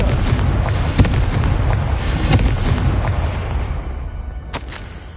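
Blasting spell explosion in Hogwarts Legacy, a few sharp booming bursts over a dense rumbling game soundscape, loud and close, with no one talking.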